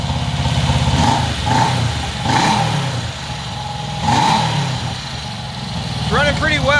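A stubborn old Honda CB360 motorcycle engine runs loud and close, rising and falling through several revs with carburetor sputter, a person talking over it near the end.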